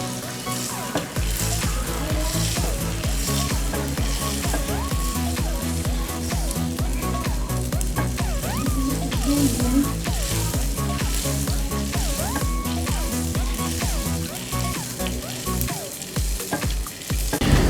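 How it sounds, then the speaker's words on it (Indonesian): Food fries in hot oil over low heat, giving a continuous close sizzle that lasts throughout, with music playing in the background. "Setelah minyaknya panas, kita kecilkan apinya karena untuk menggoreng ini kita tidak membutuhkan api yang terlalu besar."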